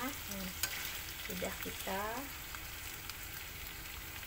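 Gourami fish fries in hot oil in a pan and is turned over, a soft continuous sizzle with a few scraping clatters as it flips, and a person talks briefly over the cooking.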